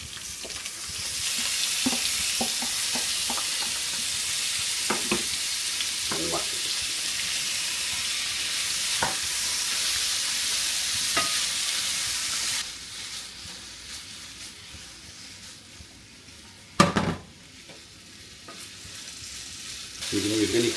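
Red bell pepper and meat sizzle steadily in hot olive oil during a cannabis-infused stir fry, a loud continuous frying hiss with scattered pops and stirring clanks, which quiets midway before one sharp clatter near the end.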